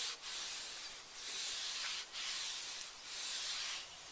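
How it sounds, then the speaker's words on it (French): A cloth rubs care product into the rubber seal of a convertible car in soft, close, hissing strokes, about four even passes with short breaks between them. "vous prenez votre chiffon et tout simplement on applique, on frotte comme ceci, on étale un peu plus loin"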